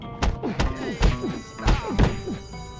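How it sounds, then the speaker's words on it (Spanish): Punch impacts in the PS2 version of the Bully video game, a series of sharp, close thuds landing at an irregular rhythm over faint background game sound. "la calidad del sonido de los golpes es mucho mejor en la consola"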